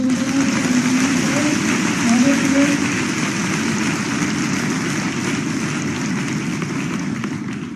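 An audience at a ceremony in Bhopal gives loud, sustained applause to the chief minister, a dense roar of clapping from a large crowd with voices murmuring underneath.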